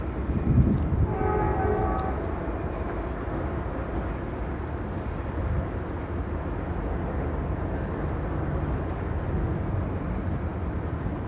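A Pan Am freight road switcher backing down into East Deerfield Yard, a steady diesel rumble with a faint metallic squeal early on and high wheel squeals near the end.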